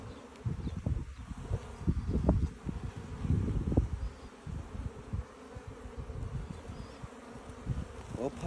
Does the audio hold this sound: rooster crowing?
no